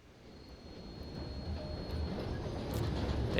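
A train in Red Dead Redemption 2 rumbles along in a low, steady roll that slowly builds louder, with a faint high metallic whine over it and a brief clank near the end.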